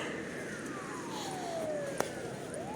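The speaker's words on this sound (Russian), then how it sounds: "Скорая мчится" An ambulance siren wails past on a rainy evening street in Yakutsk, its gliding tone sweeping downward under steady hiss of rain and wet road noise, with a sharp brief click near the end.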